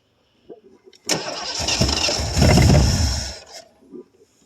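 A 1973 Ford Gran Torino Sport with a 351 Cleveland V8, off the road for 30 years, cranks briefly and catches, roaring up loud and rough for a couple of seconds before settling back down.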